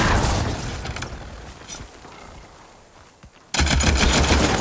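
A heavy weapon firing in Horizon Forbidden West, bursts of loud rapid gunfire at the start and again at the end with a quieter gap between, no talking.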